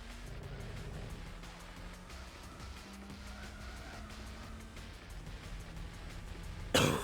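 Race car in Gran Turismo 4 braking hard, tires squealing in long drawn-out screeches over a steady engine drone, with a sudden louder burst at the very end.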